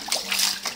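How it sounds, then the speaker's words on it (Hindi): Water splashing and trickling as it flows back into a homemade automatic cattle drinking bowl, a brief close splatter with no talk. "इसमें से पानी ये रिटर्न आने लग गया"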